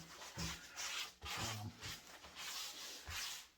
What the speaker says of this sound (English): I'm going to use this pre-messy blue shop towel just to get some of this off and sort of get some of the excess